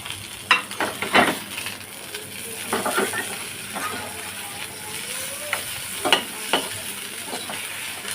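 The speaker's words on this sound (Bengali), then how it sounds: "তেলের উপরে ভালো করে ভেজে নিচ্ছি পেঁয়াজটা" Onion fries in oil with okra while a spatula stirs, scrapes and taps the pan in uneven bursts over a continuous soft sizzle, fairly close and moderately loud.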